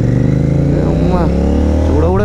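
Royal Enfield Interceptor 650 twin-cylinder engine fitted with a Way2Speed air filter, revving up in steady loud rising and falling sweeps, with talk over it.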